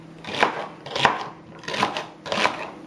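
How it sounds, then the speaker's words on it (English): Celery being thinly sliced with a knife on a board, four distinct close chopping strokes at an even, unhurried rhythm. "And just thinly slice that as well."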